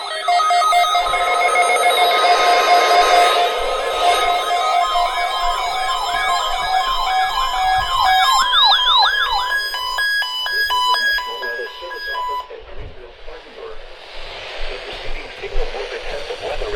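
An Emergency Alert System test tone from a NOAA weather radio, with a loud electronic warbling two-tone alert and attention signal sweeping and shifting before it fades into quieter background noise.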